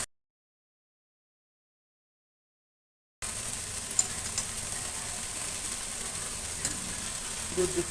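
After about three seconds of silence, rice and sour yogurt for paneer biryani begin cooking in a pan with a steady, even hiss of sizzling and a faint tick or two, with no talking.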